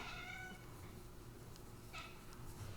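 Indoor cat meowing at birds outside, a soft, faint chattering meow at the start followed by quiet room noise and a few small clicks.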